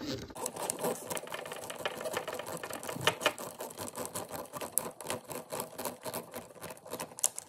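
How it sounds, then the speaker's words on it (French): Long screws are driven into a model car dashboard for a KITT replica, giving a faint, close, irregular ticking and clicking that patters continuously without a voice. "C'est des longues vis, donc c'est long à visser."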